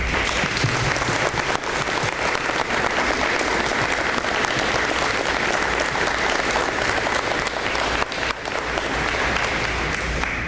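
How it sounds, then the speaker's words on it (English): An audience at a school apprenticeship signing day applauds young apprentices on stage, a loud, dense, continuous wash of clapping from a large crowd that holds steady throughout. "I'd really like to give a round of applause for all these young folks here up on the stage"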